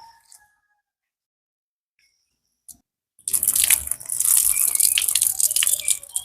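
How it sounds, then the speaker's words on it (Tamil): Rice flakes are washed by hand in a bowl of water, a steady close splashing and swishing that starts abruptly after near-silence and continues without talk. "நல்ல வடிவா இந்த பின்னஞ்சு கழுவோணும் அப்போதான் தவிட்டு தண்ணி எல்லாம் போகும்"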